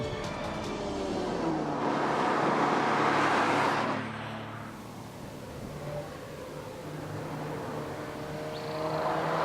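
A base Mercedes CLA with front-wheel drive being driven on the road, a steady engine and road drone that swells and eases as the car accelerates, heard from inside the cabin with no talking.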